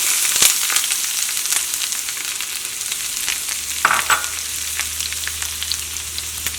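Curry leaves and chopped onions frying in a pan for a mushroom masala curry: a constant near sizzle with scattered stirring scrapes and clinks, a low hum joining partway, with no talk.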